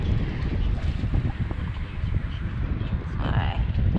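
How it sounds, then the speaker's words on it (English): Gusty wind buffets the microphone while fishing from a lakeshore, producing a constant low rumbling roar that swells and eases in waves through the whole clip. "It's just so windy too."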